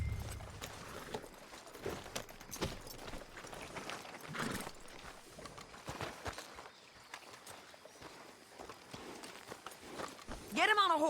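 Horse hooves clop in Red Dead Redemption 2, a quiet uneven patter of steps under game speech and low ambience.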